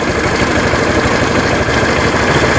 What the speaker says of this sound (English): you start to hear the noise of your scooter relaxing